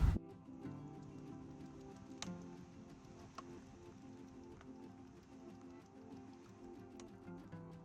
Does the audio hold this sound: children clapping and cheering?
no